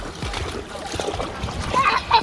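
A dog splashes and sloshes about in the water while camping, giving uneven wet splatters with a voice talking over them.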